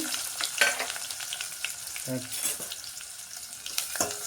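Sliced onion fries in a pan with cumin and a bay leaf, giving a steady close sizzle broken by occasional soft stirring clatters.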